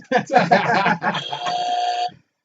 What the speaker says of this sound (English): Buzzer's working.